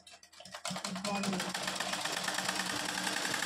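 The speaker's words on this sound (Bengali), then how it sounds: "মা তো মেশিনে একটা দিক পাটা লাগিয়ে নিল" A sewing machine at home whirs in a steady, rapid mechanical rhythm, starting up quickly and then running continuously at close range.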